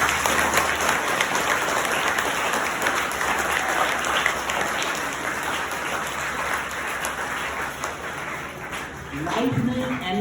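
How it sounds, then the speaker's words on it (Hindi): An audience at a teachers' event breaks into sustained, dense applause, a loud wash of many hands clapping continuously for about ten seconds, with a voice speaking near the end. "तो एक ताली इन सभी टीचर्स के लिए जिन्होंने ऐसे लीडर्स बनाए।"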